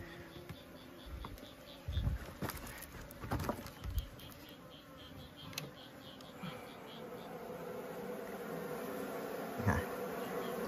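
Honeybees buzzing around a bait hive on a hillside, a steady insect hum with occasional close passes and soft rustling taps, no talk.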